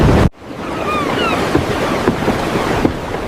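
Wind and rushing surf sound aboard a ship at London's harbour, a steady loud wash of water and wind after a brief opening burst, with faint gull-like cries drifting through.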